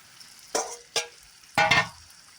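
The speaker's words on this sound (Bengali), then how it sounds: "তো এবারে হিট বাড়িয়ে আমি একটু কষে নেবো, কারণ মটরটা আমার ভালোভাবেই সেদ্ধ হয়ে গেছে" Boiled peas sautéed in a pan for ghugni, three distinct scraping stirs of a spatula with a soft sizzle between them, close and loud, the last stroke longest.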